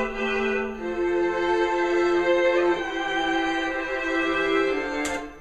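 A recorded string section swells with thick, sustained chords in a continuous, full-bodied passage, ending with a brief sharp sound at the close.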